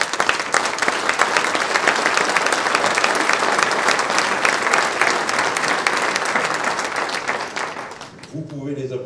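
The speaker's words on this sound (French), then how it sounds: "vous pouvez les applaudir." Loud, sustained applause from a large crowd fills the air, then cuts off near the end as a voice begins speaking.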